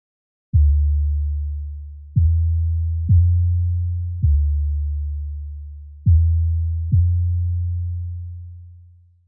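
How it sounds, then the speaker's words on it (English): Six deep sine wave synth bass notes, each with a quick pitched 808-like thump at the start, swell and slowly decay with a long release, the last one ringing out long. "a sine wave bass with a long release, and a pitch envelope modified to add a pitched 808-like attack"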